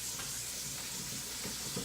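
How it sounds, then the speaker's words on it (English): Onions and peppers cooking down in butter in a pan for white chicken chili, a steady close sizzle with faint stirring rustles throughout. "our onions and peppers have been cooking down for about 3 minutes now"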